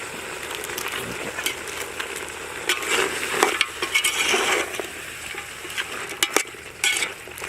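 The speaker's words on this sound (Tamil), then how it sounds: "இப்போ அதை நல்லா கிளறிடுவோம்." Chicken gravy fries in a pan while a spoon stirs it, giving a close sizzle with repeated scraping and clinking strokes. The strokes come in uneven bursts over a steady frying hiss.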